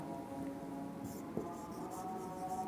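Someone writes words on a board during a Bengali spelling lesson, producing faint, short scratching strokes over a quiet room hum, with no clear speech.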